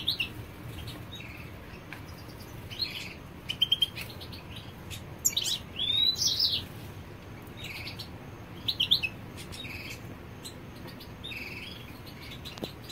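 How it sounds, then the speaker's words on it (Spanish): Caged goldfinches chirp and twitter in short, bright bursts scattered over a steady background of insect-like buzzing, the calls close and moderately loud. "Este es uno de los jilgueros viejos míos y esa es una de las pájaras viejas"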